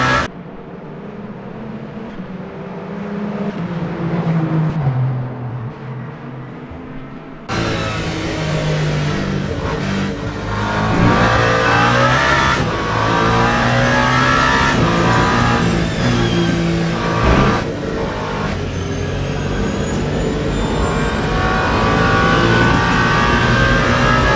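Race car engine in Le Mans Ultimate during the 24 Hours of Le Mans on hard tires, revving loud and continuous with gear shifts and rising and falling pitch, quieter at first and then surging to full volume.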